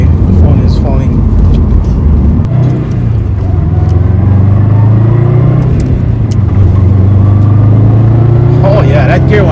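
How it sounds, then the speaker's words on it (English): Cabin of a 2002-or-later Subaru WRX/STI with a forged pitch stop mount fitted: a loud, steady engine drone underlies a whining gear tone that rises and falls with speed, while someone talks over it. "You can actually hear the gear whine and all that"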